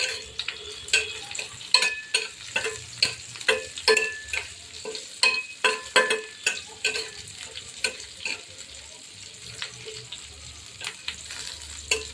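A spoonful of cumin seeds fries in a single ladle of hot oil, crackling and sizzling steadily while a utensil stirs the pan in quick, regular scraping strokes, close up with no talking.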